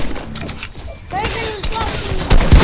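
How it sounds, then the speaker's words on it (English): Gunfire in the video game Fortnite comes as a quick burst of sharp shots, loud and close, mixed with excited voices of several players talking over the action. "Who's shooting me?"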